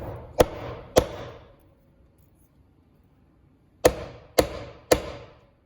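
In a jewelry studio, a slammer flattens a bent piece of metal with five sharp, loud metallic strikes. Two come close together, then after a pause of nearly three seconds a quick run of three more follows, each ringing briefly.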